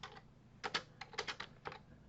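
Typing on a computer keyboard while writing Python code, a quick irregular run of clicky keystrokes, close and fairly faint, with no talking.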